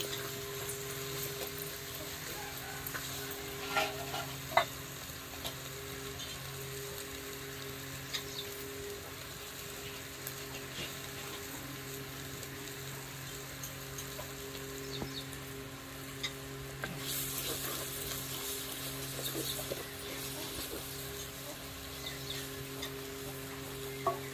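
Bitter gourd curry fries in oil with salt added, giving a low, steady sizzle with occasional clinks of stirring throughout and no talk.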